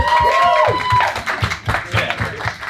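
Scattered clapping from a crowd rises and thins out over a few seconds, with a voice speaking over the start.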